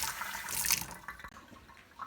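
Raisins washed under running tap water in a sink, a brief gush of splashing water that swells and then thins into softer trickles and drips, heard close with no talk.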